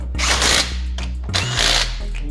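Impact wrench tightening lug nuts on the front wheel of a 2007 Chrysler 300, two close, loud bursts of whirring and hammering separated by a short pause, with motor hum around them.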